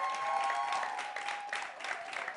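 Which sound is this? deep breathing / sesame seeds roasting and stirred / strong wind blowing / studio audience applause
studio audience applause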